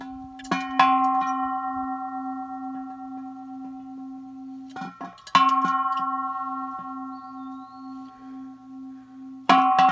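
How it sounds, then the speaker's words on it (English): A single bell struck three times at spaced intervals, each clear metallic ring sustaining and slowly fading in an otherwise quiet outdoor setting. "I'll end this conversation with a little ringing from our bell here"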